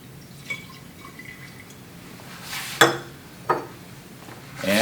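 Chemical poured into a glass beaker in a color-change demonstration gives a few short liquid splashes and light glassy clinks, quiet but close, with no talking.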